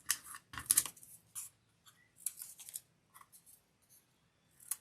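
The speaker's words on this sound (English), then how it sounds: "I'm just snipping the ends so they kind of sit like they're in the pot." Scissors snipping the ends of flower stems for a vase arrangement, a series of short, crisp, close-up cuts spaced irregularly, quiet and without talk.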